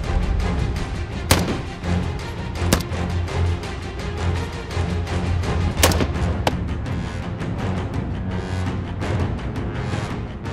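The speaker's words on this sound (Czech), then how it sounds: "u nich probíhá základní cvičení ve střelbě, používání zbraně M16, přebíjení, reakce na protivníka" M16 rifles fire during basic shooting training for new recruits at a military range, with a few sharp distant cracks scattered over a dense, rumbling background, no voices.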